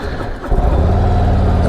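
A 2023 Harley Davidson Street Glide ST motorcycle with a big 117 engine rumbles close by, a deep loud engine note that swells after a brief dip and holds steady.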